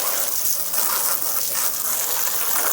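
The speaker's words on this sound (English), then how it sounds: "Let's just try a hose, no agitation." A garden hose sprays a steady, loud gush of water onto a Tesla floor mat, a continuous hiss and splatter from start to finish with no pauses.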